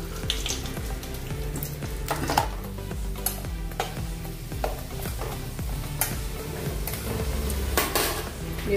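Cashews and raisins frying in hot oil in a pan for Diwali chivda, a steady close sizzle broken by repeated scrapes and clinks of a stirring spoon against the metal pan.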